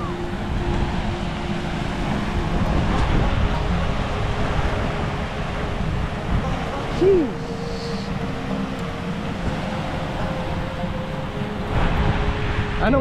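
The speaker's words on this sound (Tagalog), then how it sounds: "Ang lakas ng alon." Strong ocean waves rush and rumble in a steady roar on a provincial shoreline in the Philippines, mixed with wind buffeting the microphone and a distant engine hum. Voices are faintly audible.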